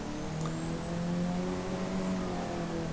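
A car engine in the racing game Assetto Corsa, driven in first gear around a tight track, holds a steady loud drone with slowly shifting pitch and a thin high whine throughout, with no talking.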